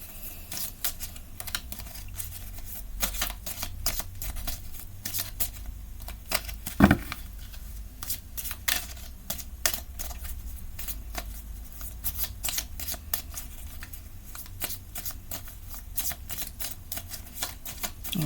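Small cards shuffled by hand, a rapid, dense run of crisp clicking and riffling that continues throughout, close and fairly quiet.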